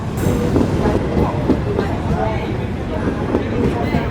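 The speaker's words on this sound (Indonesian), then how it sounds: "Rangkainya dilangsir dari jalur 2 ke jalur Simpan." Train carriages are shunted at Lempuyangan station, a steady loud rumble of rolling railcars with faint rhythmic wheel clicks and a brief high squeal at the start.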